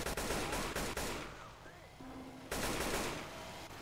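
Rapid, continuous automatic gunfire in the zombie shooter video game Left 4 Dead 2, with dense bursts of shots filling most of the stretch and a brief lull in the middle.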